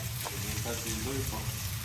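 Constant crackling sizzle of food frying in a pan, loud and close, with faint voices in the background.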